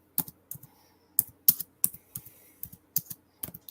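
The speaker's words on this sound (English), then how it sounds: "sorry about all the typing" Typing on a computer keyboard: clusters of crisp, close key clicks arriving in irregular bursts with short pauses between them, alone against a quiet background.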